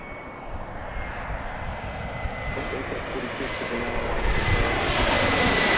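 A fixed-wing airplane waits to take the runway at Washington's Reagan National Airport (DCA), seen from Gravelly Point park, with a crosswind blowing; a steady, loud engine roar swells slightly toward the end.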